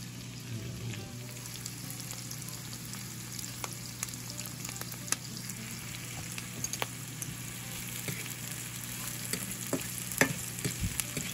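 Shallots and fresh thyme sizzling in olive oil and butter in a pan, a continuous close crackle with occasional stirring taps and a low steady hum beneath, no talk.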